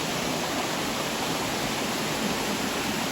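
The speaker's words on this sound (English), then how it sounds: "Waterfall." A garden waterfall in a humid tropical rainforest planting pours in a steady, unbroken rush of water, a dense hiss that holds an even loudness throughout with no voices over it.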